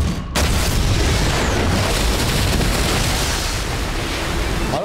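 Sea mines exploding in the Modern Warfare 3 campaign, a heavy sustained roar of booms and rumbling blast noise that fills several seconds and stays loud throughout, with no clear speech over it.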